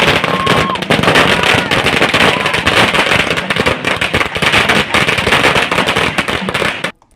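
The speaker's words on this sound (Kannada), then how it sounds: "ಪಟಾಕಿ ಸಿಡಿಸಿ ಸಂಭ್ರಮಿಸಿದರು" Firecrackers burst in a dense, continuous crackling barrage as Congress party workers carrying flags march in procession along a main road celebrating a victory, loud and close, with no pauses until it cuts off abruptly.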